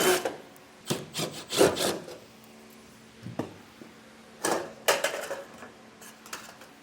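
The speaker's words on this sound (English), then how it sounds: "So I'm going to pop all the screws out of this." Screws are removed from a metal trim piece on a trailer's Optronics smoke lens turn, brake and tail light, giving scattered close scraping and rasping bursts with short quiet gaps between them.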